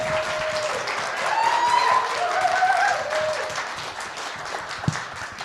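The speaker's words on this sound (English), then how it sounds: "would you join me in an applause for Ronnie and his willingness to share his" A church congregation applauds during a Sunday service, a steady moderate clapping that swells in the middle, with a few voices and tones rising over it and one sharp clap near the end.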